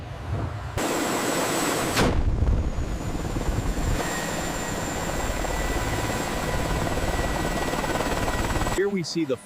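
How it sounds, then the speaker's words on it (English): A Kamov Ka-32 coaxial rotor head and transmission gear assembly running on a factory test stand, giving a steady, loud, continuous mechanical whir and drone with a sustained high whine throughout, briefly dipping near the start. "Here we see the flawless gear operation of the coaxial system"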